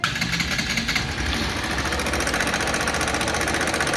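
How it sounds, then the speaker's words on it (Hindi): An NS160 motorcycle engine runs steadily with a harsh, irritating internal rattle and knock, loud and close, with a dense rapid mechanical chatter throughout and no talk. "अब मैं तुम्हें एक बार बाइक की आवाज़ सुनाता हूँ, कितनी इरिटेटिंग साउंड आ रहा है बाइक के अंदर से।"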